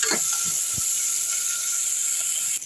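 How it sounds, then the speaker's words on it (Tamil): Onions and curry leaves fry in hot oil with mustard seeds and cumin in a pan, giving a steady, close sizzling hiss with a few faint pops. "அடுத்து வெங்காயம் கருவேப்பிலையும் போட்டாச்சு நல்லா வதக்கலாம்"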